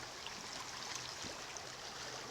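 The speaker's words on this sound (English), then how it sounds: "Some rushing water through here." Faint, steady wash of rushing water on Antietam Creek as heard from a kayak, a continuous broadband hiss with no voices.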